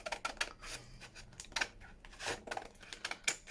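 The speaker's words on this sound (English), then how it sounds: "Right, let's cut round this." Scissors cutting around leftover packaging paper, a series of crisp snipping bursts at an uneven pace, close and fairly quiet, with no talk.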